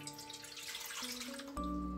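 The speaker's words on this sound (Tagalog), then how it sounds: "sa isang malinis na kawali, maglagay tayo ng 4 cups na tubig." Four cups of water pour steadily into a clean pan, a soft rushing stream that grows fuller and louder toward the end.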